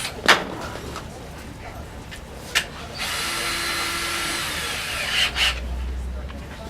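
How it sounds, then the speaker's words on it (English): A power drill pre-drilling into a wooden stud wall, with a few short knocks leading into a steady whirring drill run of several seconds, heard close and fairly loud. "This is still in our stud wall here, so we're going to pre-drill those."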